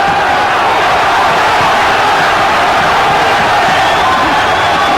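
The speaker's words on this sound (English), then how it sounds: "And the cheering starts." Loud, sustained cheering from the boxing crowd at the Gary Mason versus Everett Martin bout, a dense roar of voices filling the arena throughout.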